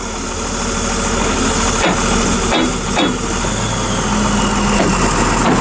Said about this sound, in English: You hear those knife arms pulsing?